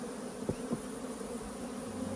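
Honeybees swarm around backyard hives where robber bees are trying to steal honey, a steady droning buzz close by with a couple of louder individual bees zipping past.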